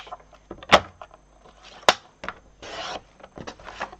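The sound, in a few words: cutting designer series paper in half for a card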